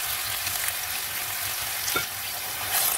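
Pork ribs with pepper stirred in a frying pan, an even, close, loud sizzle with a faint scrape of the spatula partway through.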